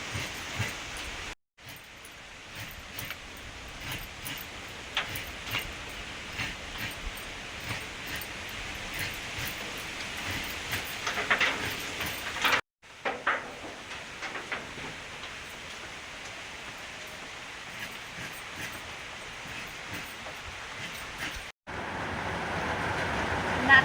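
Steady rain falls outside a home kitchen, a continuous broad hiss of moderate loudness with a few abrupt breaks, no speech.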